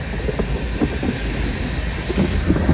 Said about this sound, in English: Well, I got a train.